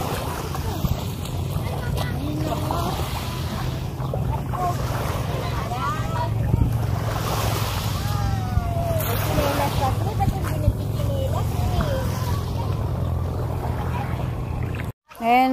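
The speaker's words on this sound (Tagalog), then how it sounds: "Manay Kalo, alis na yung bangka." A boat departing the shore of Himokilan Island in Hindang, Leyte, its engine a steady low drone under wind and waves, while people chatter faintly throughout.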